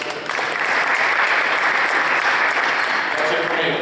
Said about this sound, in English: let's give a round of applause for Reeves since he is not here